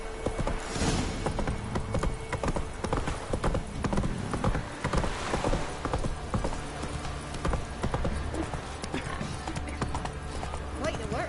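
Horse hooves clip-clop steadily in a fast gallop from The Witcher 3, the horse ridden by Geralt, with an occasional whinny over game ambience and background chatter.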